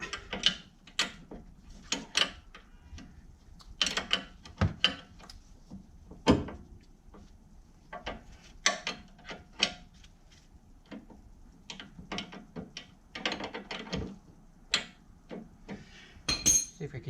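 A ratchet wrench tightens a front stabilizer bar link rod on a 2008 to 2014 Mercedes-Benz C300, giving repeated short metallic clicking bursts at an irregular pace, close and fairly quiet, with small clinks between them.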